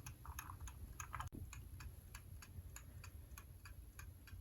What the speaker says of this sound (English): And now it's ticking.